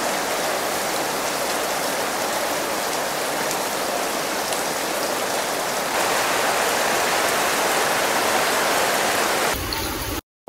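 Steady heavy rain pours down in a constant dense hiss that runs unbroken and loud for about ten seconds, then cuts off abruptly.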